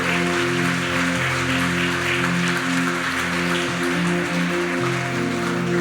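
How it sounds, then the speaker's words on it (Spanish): A church congregation applauds loudly at the end of a sermon, with a thick patter of clapping over sustained organ or keyboard chords playing throughout. "dale mucho mejor ese aplauso a Dios"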